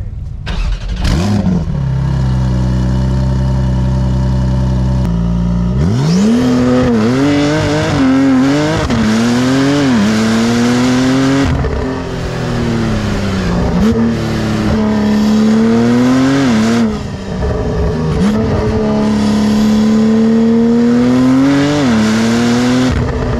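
A Porsche 992 Turbo S drives the Dragon road, its engine loud and close: a low idle, then repeated revving climbs through the gears with brief lifts between shifts, sustained and strong throughout.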